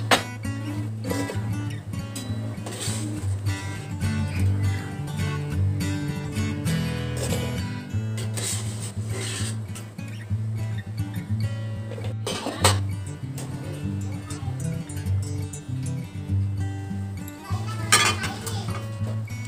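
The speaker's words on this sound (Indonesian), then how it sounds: "Mari kita tiriskan." Pots and pans clank and clink repeatedly while boiled potatoes are drained in a home kitchen, metal knocking sharply and steadily throughout, with a few louder bangs.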